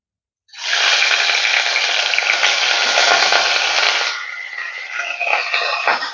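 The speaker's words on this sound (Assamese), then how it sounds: "এয়া দেখিছেনে অকণমান ঘিউতে মই ভাজি লৈছো এনেদৰে" Soaked bora rice frying in ghee with bay leaves and three small cardamom pods gives a steady, loud sizzle that starts abruptly, then softens into lighter crackles and stirring scrapes toward the end.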